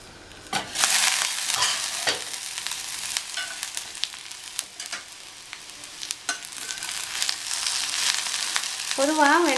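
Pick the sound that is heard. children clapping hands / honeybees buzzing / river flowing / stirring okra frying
stirring okra frying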